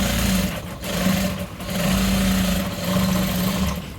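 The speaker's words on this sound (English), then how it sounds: "Fold, then go ahead and sew with half of an inch." Sewing machine stitching a half-inch seam on an African print tote bag, a close continuous whirring hum that rises and dips slightly over four seconds with no pauses.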